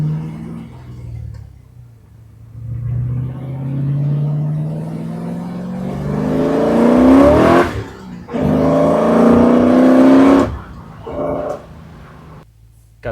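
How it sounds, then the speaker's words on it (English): Exhaust of a 1964 Chevy Corvette with MagnaFlow mufflers, revving up in rising sweeps to a throaty peak, briefly dropping off, then climbing again before settling back toward idle, close and loud with no talking. "Those MagnaFlow mufflers sound really good in my opinion. And this exhaust has got just a really nice note."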